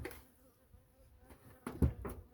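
Honeybees from split colonies buzzing close by, a faint continuous hum swelling into a few louder passes near the end, with no talk.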